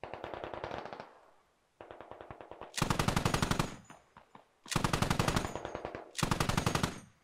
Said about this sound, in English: I hear that MRAP shooting